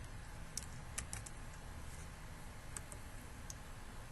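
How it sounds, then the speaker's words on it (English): Sparse, quiet keystrokes on a computer keyboard while ingredient names are entered into desktop recipe-costing software, a few scattered clicks over a steady low room hum. "when I start typing the first few letters of the ingredient"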